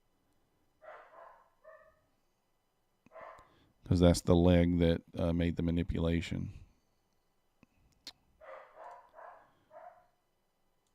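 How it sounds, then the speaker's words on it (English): A dog barks in short bursts in the background, faint and distant, while someone talks loudly in the foreground. "Sorry about the dog barking."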